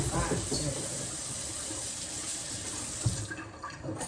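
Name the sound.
washing carrots under running tap water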